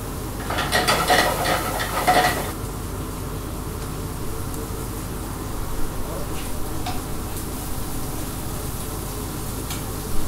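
Prawns frying with onions and garlic in a pan give off a steady, close sizzle, with a few louder stirring scrapes near the start before settling into a constant hiss.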